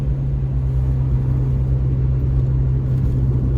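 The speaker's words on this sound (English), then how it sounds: "Yep, a lot of big rigs out there" Heard from inside a vehicle, big rig trucks on a highway make a steady low droning rumble with a constant engine hum and no pauses or voices.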